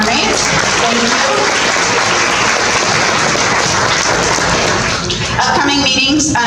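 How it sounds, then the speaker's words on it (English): An audience at a county Democratic meeting claps loudly and steadily for a restaurant, and a voice cuts in briefly as the applause starts to fade. "let's give them a round of applause"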